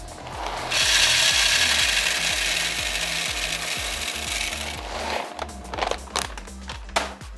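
Burr coffee grinder grinding espresso beans fed from the hopper while making a latte, a loud steady whirring grind for about four seconds that stops, followed by scattered knocks and clatter.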